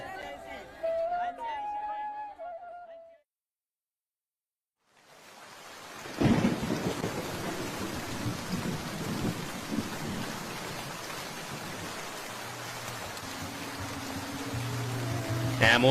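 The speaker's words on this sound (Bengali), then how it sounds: "বৃষ্টি শুরু হলো" Thunder cracks sharply, then steady heavy rain pours in an animated Bengali cartoon, following a stretch of music and a pause of silence; the downpour stays dense and loud to the end.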